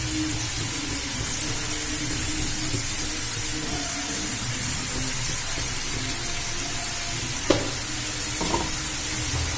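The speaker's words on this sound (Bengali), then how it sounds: "দেখুন আমার এগুলো খুব সুন্দর করে ভাজা হয়ে গেছে, এই যে দেখুন লাল লাল করে।" Potato French fries fry in hot oil, giving a steady, dense sizzle throughout. Near the end come a couple of faint knocks, like a utensil touching the pan.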